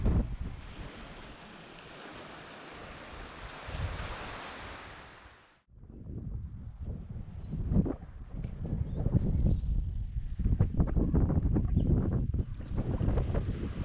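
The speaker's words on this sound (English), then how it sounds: "It's a little windy this morning." Strong wind roars around a boat moored in a creek as a southeast change moves up the coast. The gusty rush is loud at first, then drops away to the nearer rustle and slap of water and rigging.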